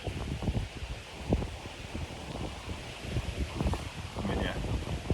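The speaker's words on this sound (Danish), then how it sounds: "Godt med vind og tordenby på vej hen." Wind gusting through leaves outdoors with thunder on the way, a steady broadband rustle with irregular low buffeting, close and fairly loud throughout, no talking.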